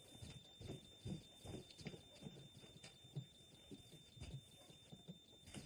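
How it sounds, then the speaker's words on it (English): A child's seizure alarm beeps steadily at home, a faint high electronic tone running under low, muffled movement and scattered low thumps. "It's Nabil's seizure alarm."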